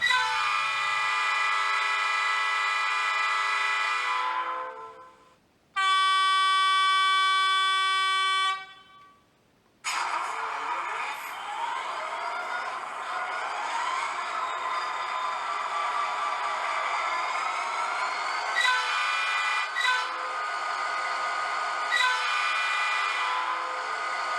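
A model EMD 8110 locomotive runs with a sustained, loud, steady diesel drone, broken by a short clear multi-tone horn blast, then its engine sound resumes and holds steady.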